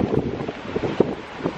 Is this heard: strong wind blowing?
yes